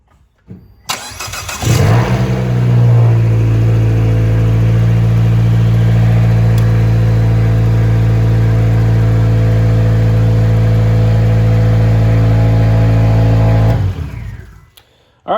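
A car engine cranks and catches after an MPX underdrive pulley kit install, then settles into a loud, steady close-up idle for about twelve seconds before shutting off.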